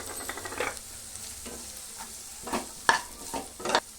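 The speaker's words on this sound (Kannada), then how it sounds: "ಒಂದು ಸ್ವಲ್ಪ ಬೇಯೋವರೆಗೂ ಆಡಿಸ್ಕೊಳ್ಳೋಣ, ಹಿಂಗೆ ತಳ ಹಿಡಿದಿದ್ದಂಗೆ." Green chillies, carrots and beans fry in a pan while a spatula stirs them, giving scraping strokes and clinks over a low steady sizzle, with no voices.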